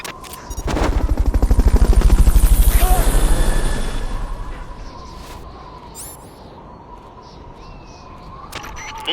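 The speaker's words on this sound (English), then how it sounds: "Fulton recovery subject confirmed onboard helicopter." A Fulton recovery helicopter in Metal Gear Solid: Peace Walker gives a loud, rapid rotor chop that swells over the first few seconds and then fades to a lower, steadier hum.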